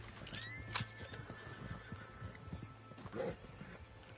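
A horse whinnies in Red Dead Redemption, a shrill neigh near the start followed by a second shorter call later, mid-distance over faint hoof clops and low ambient game sound.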